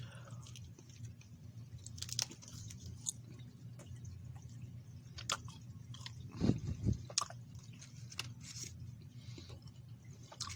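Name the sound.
chewing a gummy nougat, caramel and chocolate ration bar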